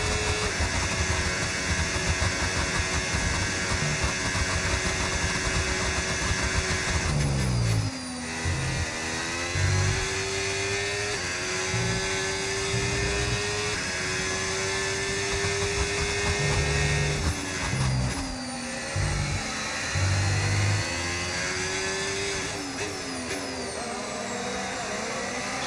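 Formula 1 race car engines roar in the F1 25 video game: a continuous high-pitched whine rising and falling through gear shifts, with sharp pitch drops around braking points and steady loud engine tone throughout.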